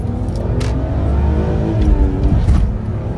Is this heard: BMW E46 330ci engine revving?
yes